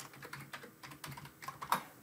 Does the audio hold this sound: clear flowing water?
no